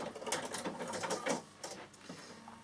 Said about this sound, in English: all I'm doing is sewing from one point to the next